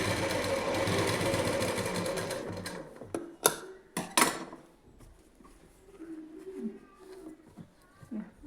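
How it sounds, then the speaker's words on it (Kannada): A sewing machine stitches in a fast, steady whir for about three seconds, then stops. A few sharp knocks and clicks follow, and soft speech carries on quietly in the background. "ಇನ್ನೂ ಸ್ಟಿಚ್ ಹಾಕೋದು."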